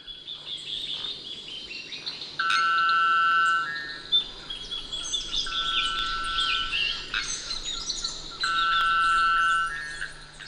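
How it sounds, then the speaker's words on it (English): Bellbirds call in misty forest in Sierra de Lema, Venezuela, with ringing metallic notes repeated in bursts over a steady chorus of other birds and insects. "those metallic vocalizations are birds. And these are called bellbirds"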